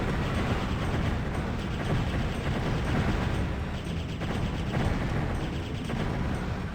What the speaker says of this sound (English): I should probably use this rocket launcher of mine at some point.